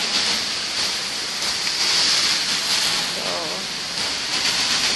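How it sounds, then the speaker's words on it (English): Heavy rain pours outside an office building, a dense, steady hiss that stays loud and constant throughout with no breaks. "It's raining so hard."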